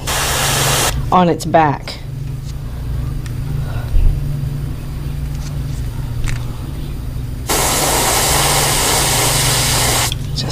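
An airbrush or spray gun hisses steadily while colouring the back end of a cicada popper fishing lure, a long broadband spray running near and constant, with brief pauses, and someone talking over it early on.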